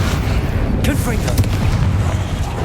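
Confringo blasting spell fired in the video game Hogwarts Legacy, a booming burst with crackling streaks of energy over a loud, continuous roar of battle effects.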